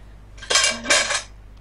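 Two quick bursts of metallic clattering and scraping as a cat knocks a frying pan about on a hard surface, close by with no voices.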